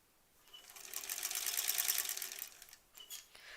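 Sewing machine stitching quilt seams on a granny squares quilt, a fast, even mechanical whir that rises for a couple of seconds and then eases into a few short bursts, close and fairly quiet, with no voices.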